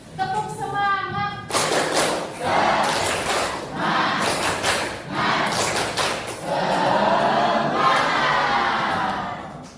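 A group of participants in an Indonesian teacher supervision session doing rhythmic spirit clapping, loud bursts of patterned claps mixed with chanting voices and cheers, preceded by a brief spoken prompt.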